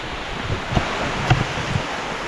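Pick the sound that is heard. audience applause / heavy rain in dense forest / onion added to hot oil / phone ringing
heavy rain in dense forest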